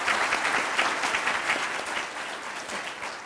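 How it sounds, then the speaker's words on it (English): An audience claps for panelists at a mental health community panel, a dense, steady round of applause that fades slightly toward the end. "Let's give the panelists a round of applause before we move."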